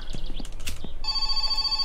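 A telephone rings in the My Summer Car game, with a steady electronic ring tone that starts partway through after some brief clattering noises and holds to the end.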